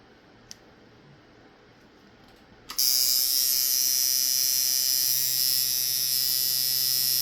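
A tattoo coil machine with small coils switches on after a click and runs at 8 volts: a loud, steady, high-pitched buzzing drone that holds to the end.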